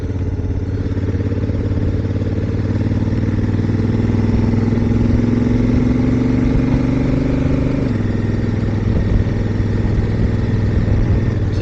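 Trail motorcycle engine heard steadily while riding, a loud continuous mid-pitched drone with mechanical clatter and a slight pitch shift partway through, with no talking.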